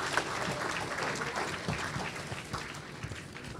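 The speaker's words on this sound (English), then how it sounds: "Let's have a round of applause for Major Gary Charlotte." Steady, dense applause from an indoor evening audience honoring a major at a veterans' Honor Flight event in Washington, D.C., sustained at an even level for several seconds.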